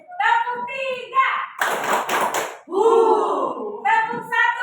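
Children in a classroom clapping game clap three quick, sharp times together, the loud claps set between stretches of children's voices.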